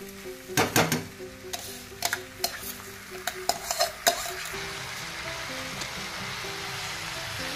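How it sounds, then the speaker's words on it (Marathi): Rice and vegetables fry in oil in a kadhai for khichdi pulao: an opening burst of spoon clinks and scraping against the pan, then a steady soft sizzle carrying on alone. "तांदूळ फ्राय करून घेऊया थोडेसे"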